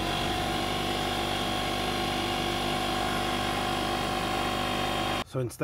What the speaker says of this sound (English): I set the pressure gauge on my air compressor to 80 psi, and I'm using that to set it to 80 psi